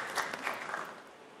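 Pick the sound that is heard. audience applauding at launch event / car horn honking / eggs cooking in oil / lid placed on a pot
audience applauding at launch event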